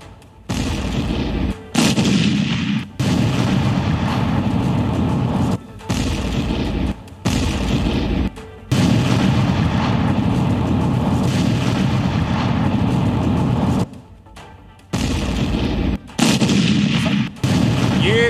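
Loud, sustained bursts of explosions and heavy booming from military strikes on terrorist camps during Operation Sindoor, in long dense stretches broken by brief pauses, with no talking.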